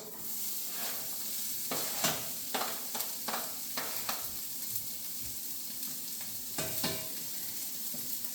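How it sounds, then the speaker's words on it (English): Mushrooms, onions and jalapeños sautéing in grease, a continuous close sizzle broken by several sharp scraping and stirring clacks of a utensil against the pan. "So now we got our mushrooms, our onions, and our jalapeños in our grease a little bit there."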